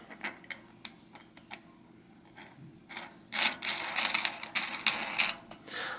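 Metal clicks and ratcheting as a cog is threaded onto a vintage bicycle hub, sparse separate ticks at first, then a denser run of rapid clicking and scraping, close and fairly quiet.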